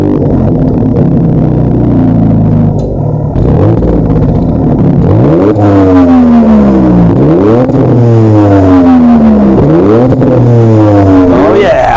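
A 2026 Dodge Charger with the Hurricane engine and an eight-speed automatic revs hard, loud and close, its pitch sweeping up and dropping back in repeated surges as it accelerates and shifts.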